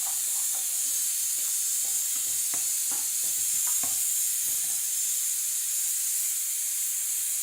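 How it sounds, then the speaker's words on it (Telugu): Brinjal pieces frying in a pan on a home stove give a steady, continuous hiss that runs throughout, with scattered soft pops and crackles rising here and there, and no voices. "వంకాయలు ఫ్రై అవుతున్నాయి"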